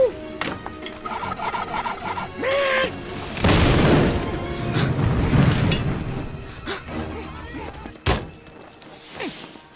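Torch's gas tank blows up in The Simpsons Movie as an angry mob attacks: a loud booming explosion swells and rumbles for several seconds amid crowd noise, thuds and a sharp crack, with a character's voice heard early on.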